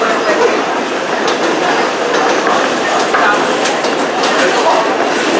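Onboard a running New York subway 7 train, a loud, steady rumble and roar fills the car, with faint rhythmic clatter over the rails throughout.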